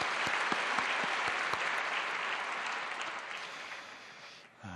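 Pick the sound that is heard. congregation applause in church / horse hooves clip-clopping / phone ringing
congregation applause in church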